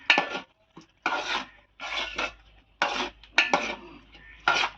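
Okra and mutton are stirred together in a pot, giving several separate bursts of scraping and clinking from a utensil against metal, close and fairly loud with short quiet gaps between them.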